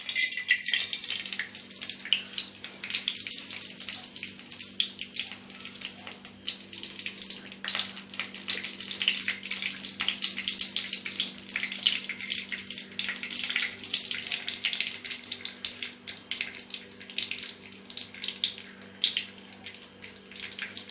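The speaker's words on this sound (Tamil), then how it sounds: "கடுகு நல்லா பொரியட்டும்." Mustard seeds spluttering in hot oil in a pan: a dense, continuous crackling hiss with rapid tiny pops, steady and close throughout, over a faint low hum and no talking.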